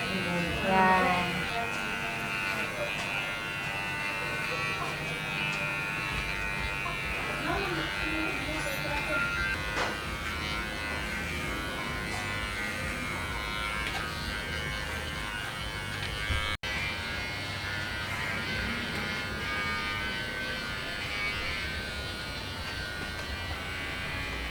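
Electric clippers run steadily, trimming a dog's belly hair against the grain, a continuous buzzing hum lasting the whole stretch with a person talking over it.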